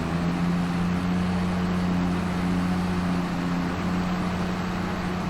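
A video game tractor engine hums continuously at an even, idling pitch, with no voices.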